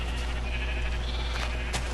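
Sheep in the Minecraft video game bleat in a steady stream of overlapping calls, with a constant low hum underneath and no speech.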